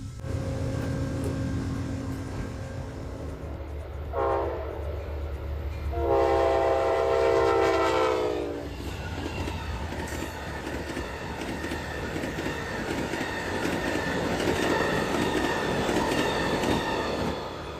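Amtrak Lake Shore Limited passenger train rushing past near Syracuse, with loud horn blasts sounding twice over the rumble of wheels and clattering cars, heard close and without talk.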